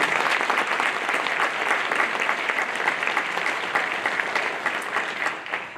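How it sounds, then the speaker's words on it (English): Steady, dense applause from a concert audience at a high school honor band performance, loud and sustained throughout before easing slightly at the end. "So let's have a big round of applause for our administrators at their schools."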